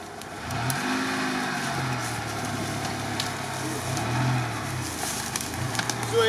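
A UAZ off-road vehicle driving through swampy ground, its engine droning steadily and rising and falling as it revs, close by with no talking over it.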